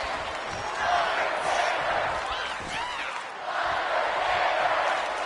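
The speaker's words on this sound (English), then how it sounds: "The crowd is fired up." A crowd cheers and roars loudly in the WWE 2K25 wrestling video game after a wrestler is launched out of the ring, a sustained, swelling arena din with a few brief surges.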